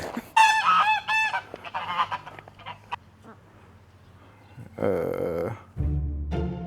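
A goose honks in loud, harsh bursts in Albania, with a few squawking calls and pauses between them, fairly close.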